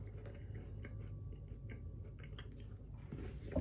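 Crunchy, buttery French snack chewed up close, with a steady run of soft crunching and mouth noises over a constant low background hum.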